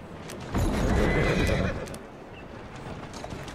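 In Assassin's Creed Syndicate, a horse gives a loud, shaky neigh with hoofbeats, then the sound settles into quieter background noise.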